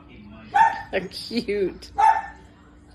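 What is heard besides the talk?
dogs barking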